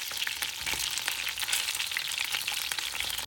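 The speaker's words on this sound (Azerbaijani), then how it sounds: "Bir tərəfi tam qızarandan sonra çeviririk və digər tərəfini qızardırıq." Chicken wings sizzle and crackle steadily in a hot pan, a dense, close frying hiss with scattered pops throughout, with no voices.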